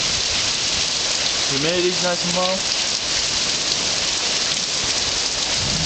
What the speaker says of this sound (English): But there's rain and wind and lightning and thunder.